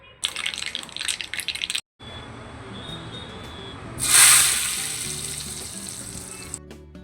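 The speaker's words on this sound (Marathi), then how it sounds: "व्यवस्थित राई आणि कढीपत्ता तेलामध्ये भाजून घ्यायचा आहे" Mustard seeds and curry leaves sizzling in hot oil, a dense crackling burst that cuts out briefly, then a quieter hiss that flares into a loud spitting sizzle midway and slowly settles, close up, no talking.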